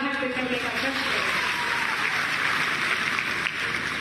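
Dense, sustained applause from a large audience at a school event in Ayodhya, steady and loud throughout with a faint voice mixed in.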